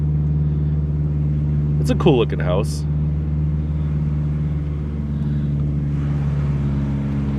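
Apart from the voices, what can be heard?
loud car engine climbing a hill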